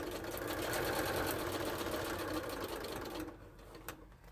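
Sewing machine basting foam into a bag seam, a steady fast rhythmic stitching whir that runs continuously, then slows and stops near the end with a faint click.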